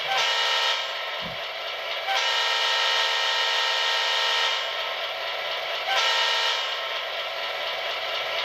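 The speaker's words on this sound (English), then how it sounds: "Here's the horn." A loud, sustained multi-tone horn from an MTH HO-scale GP38-2 model locomotive with Proto Sound 3.0 sounds in long blasts with brief dips between them, bright and close, with no voices.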